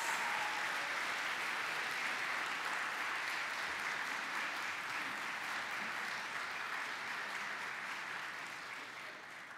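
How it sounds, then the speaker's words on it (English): Sustained audience applause for a choir at a Christmas church concert, a dense even wash of clapping that holds steady and slowly fades toward the end. "Let's give them a big round of applause"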